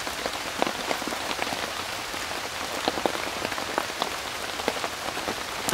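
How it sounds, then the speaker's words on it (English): Heavy rain drums steadily on a surface nearby, a dense patter of drops with no voices. "it's raining quite heavily still"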